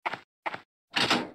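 A door opens in the survival horror video game Parasite Eve II: two short mechanical clicks of the latch, then a longer sliding whoosh as the door moves, heard on its own.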